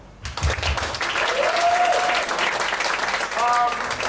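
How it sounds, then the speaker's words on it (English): Applause at PechaKucha Night in Ubud greets the next speaker. A crowd claps loudly and evenly for several seconds, and a faint tone and a thump are heard early on. "Right, applause people."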